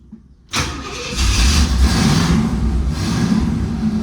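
An old restored car's engine cranks and fires after a quiet start, catching abruptly and settling into a loud, rough, rumbling idle that holds steady close by, without talk.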